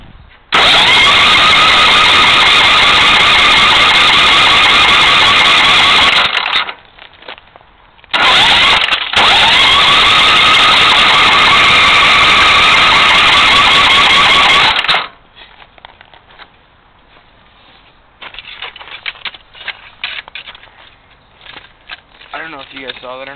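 A lawn tractor engine runs loud and steady just after repair, cutting out briefly twice before shutting off around fifteen seconds, followed by quieter handling noises.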